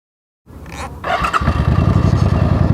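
Motorcycle engine caught through an SJ4000 action camera in an open frame mount, starting up and settling into a loud, close, steady rumbling idle with a throbbing low pulse.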